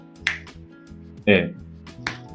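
Three crisp finger snaps land apart over a sustained musical tone, the middle one loudest.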